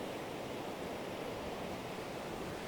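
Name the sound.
strong wind on a beach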